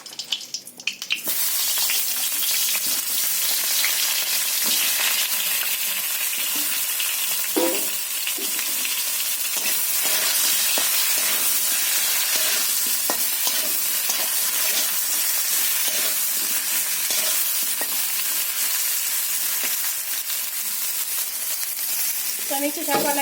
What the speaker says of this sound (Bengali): আমি এখন বেগুনটা ভেজে নেব।